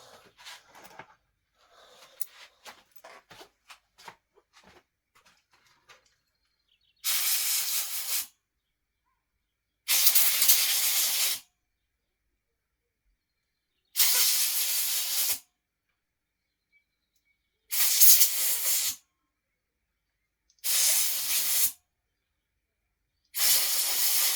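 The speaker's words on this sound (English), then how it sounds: "I'll just give them a quick blow down so they're nice and clean." A compressed air nozzle blows down cylinder bolts from a Husqvarna 450 engine in six loud, steady hissing bursts of about a second each, separated by silences, after some quiet handling clicks at the start.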